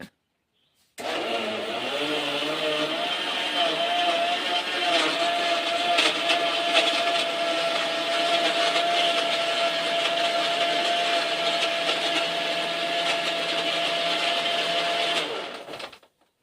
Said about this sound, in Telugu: ఇప్పుడు వీటిని మిక్సీలో పెట్టి గ్రైండ్ చేద్దాం